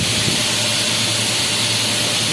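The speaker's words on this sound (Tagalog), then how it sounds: "Dito ang isang makina ko." A factory machine running at a plant gives off a loud, continuous broadband roar with a steady hiss and low hum, unchanging throughout.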